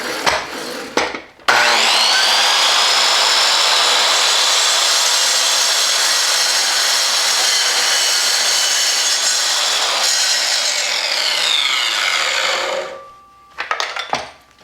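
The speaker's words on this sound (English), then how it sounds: "Let's cut this piece of wood" A power saw bites through a piece of wood in one long, loud continuous cut lasting about ten seconds, its blade whining steadily before spinning down, with brief knocks and handling noises at the start and end.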